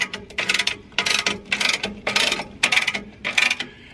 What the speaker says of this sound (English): We've got the ratchet on there, and we're just going to go ahead and start lifting it up.